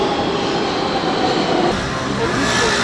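A subway train near Times Square in New York runs loud and close: a constant heavy rumble with grinding wheel-on-rail noise, and faint voices underneath.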